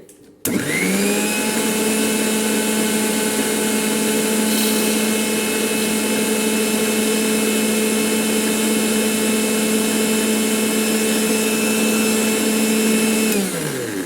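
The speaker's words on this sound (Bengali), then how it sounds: "ভালোভাবে ওই ডিমটা ওই সব ব্লেন্ড করে" An electric blender whirs through egg for homemade mayonnaise, starting abruptly and holding one loud, steady motor whine for well over ten seconds before cutting off near the end.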